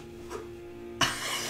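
A single sharp cough breaks out close by after a faint, muffled one, with a low steady hum running underneath throughout, during a Vampire: The Masquerade tabletop role-playing session.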